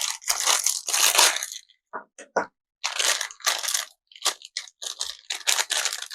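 A Skmei 1251 watch is pulled from a plastic bag, giving bursts of loud, close crinkling and rustling of thin plastic with short pauses and small clicks, and no talking over it.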